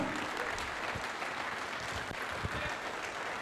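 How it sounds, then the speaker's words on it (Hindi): Loud, sustained applause from an audience welcoming a motivational speaker, an army major, at a corporate talk event, a dense steady wash of clapping with no voices on top. "एक जबरदस्त तालियों के साथ उनका वेलकम करें"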